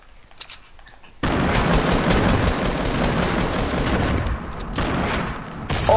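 A grenade goes off in a PS4 video game, a sudden loud blast that rolls straight into a dense, sustained roar of gunfire-like crackle for several seconds before easing slightly and swelling again.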